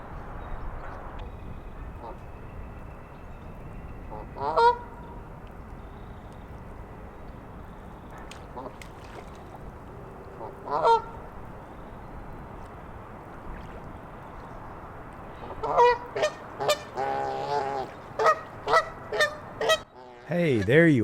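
Geese at a wetland give several scattered honks early on, then a burst of repeated loud honks near the end, set against faint water and outdoor ambience.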